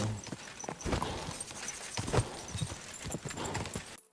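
Horse hooves clip-clop at a steady walking rhythm in Kingdom Come Deliverance 2, close and fairly quiet, with a faint snort or whinny among the hoofbeats.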